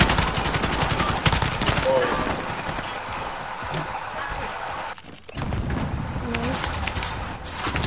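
Rapid gunfire crackles through a Warzone match, dense bursts of shots running almost continuously with a brief lull midway, loud and close over the game's background noise.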